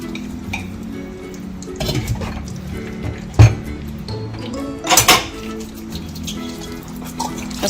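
A dark metal pot is scrubbed with leftover tamarind peel, producing scratchy rubbing, occasional metallic clanks and a couple of sharp knocks over a low background, close and without talk.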